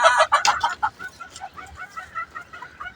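Several hens cluck and call close by on a city rooftop farm in the morning at feeding time, a dense burst of overlapping squawks settling into steady, softer clucking.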